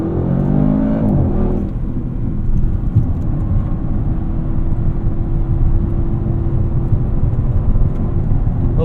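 A 2024 Audi RS7's engine roars loudly as it accelerates around a highway entrance ramp, the pitch climbing at first, then settling into a sustained, steady drone.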